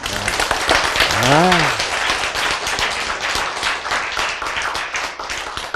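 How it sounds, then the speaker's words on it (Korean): A congregation at a sermon on life claps together in a loud, continuous patter of many hands, briefly overlapped by a short spoken syllable from a speaker near the start. "박수 한번 치고 갑시다"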